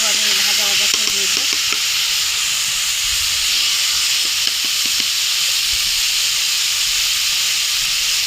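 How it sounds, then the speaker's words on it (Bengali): Spice paste fries in a pan with a loud, continuous hissing sizzle while a few light stirring scrapes and clinks sound near the start and middle. "মশলাটা ভালোভাবে ভাজা ভাজা করে নিব।"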